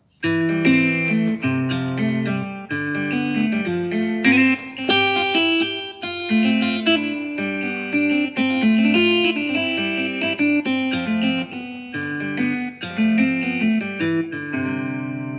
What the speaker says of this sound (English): pure vintage guitar, it sounds something like this.